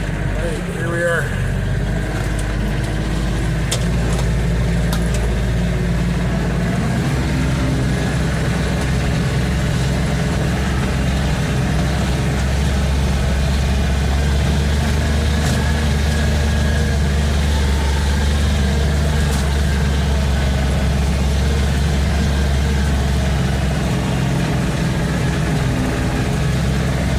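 A Kioti K9 utility tractor with a broken steering fault, stuck out in a field, its engine idling in a steady, continuous low rumble at close range throughout.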